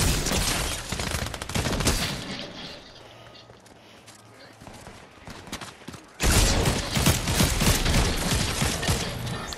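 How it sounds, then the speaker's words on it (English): Gunfire in Fortnite, with loud bursts of shots at the start and again after a quieter stretch, mixed with game sounds and voices talking. "There's more people shooting over here."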